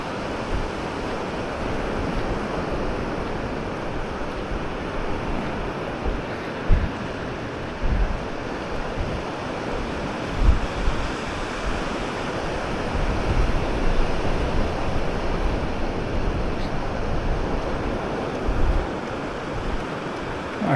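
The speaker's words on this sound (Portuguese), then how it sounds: "notou que a gente só tem o barulhinho do mar e do vento" Sea waves roll and wash onto a beach in Florianópolis on a summer day, a steady broad hiss with gusting wind buffeting the microphone, loud and close, with no voices.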